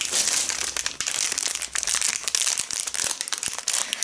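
Packets of Cha Gao tea crinkle and crunch as they are handled up close, a dense run of sharp papery crackles and rustles with no voice.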